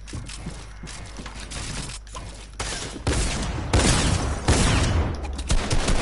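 Dense gunfire from a video game, sustained bursts and rapid shots running throughout, growing louder and busier in the second half with mechanical clicking mixed in.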